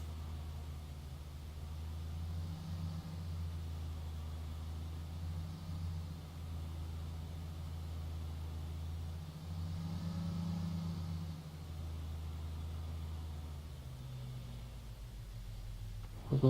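A car engine drones steadily from inside the cabin while driving, low and fairly quiet, swelling gently a few times, with a sudden louder thump at the end.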